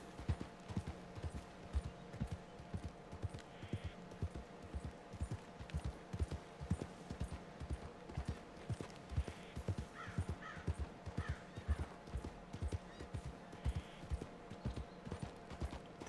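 Horse hooves clip-clop steadily at a slow walk in Red Dead Redemption 2, a regular rhythmic clatter with faint crow caws and bird calls in the background, no talk.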